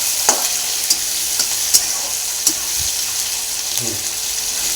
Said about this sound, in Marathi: आणि आता कांदा मिरची मोठा गॅस करून चांगला आता भाजून घ्यायचा आहे